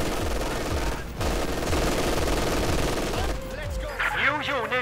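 Rapid machine gun fire in the World War II strategy game Company of Heroes 2, a loud rhythmic stream of bursts, then quieter battle effects with whistling sounds.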